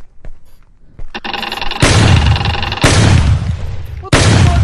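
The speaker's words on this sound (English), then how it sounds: "I grabbed the salt gun." Salt gun firing in a ghost-hunting exorcism video game, several loud, sharp blasts that each ring out into a noisy tail, close and heavy, with faint background sound between shots.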